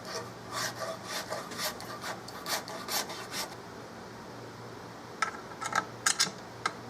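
A hand tool rasps and scrapes along the wooden barrel channel of a Remington 700 Mannlicher-style rifle stock in a run of quick close strokes, then pauses before a few sharper scrapes.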